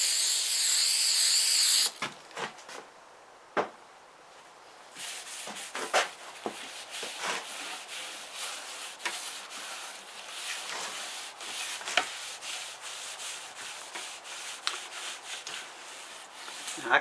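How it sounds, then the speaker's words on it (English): A light finish coat is rubbed into the worn, cracked wooden finish of an antique New Home sewing machine. A brief hiss opens, then close, irregular rubbing and soft scraping strokes continue. "I'll put a light coat on it"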